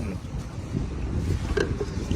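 Strong wind blowing outdoors, a loud, steady rush with gusts and buffeting against the microphone close up, with faint background sounds.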